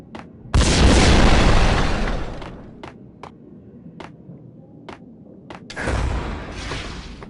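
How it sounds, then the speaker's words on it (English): Grenade explosion in the video game Max Payne, a loud broadband boom bursting at about half a second and rumbling off, then a few sharp pops and a second heavy blast near the end. "throw a grenade?"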